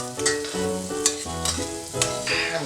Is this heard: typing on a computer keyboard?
no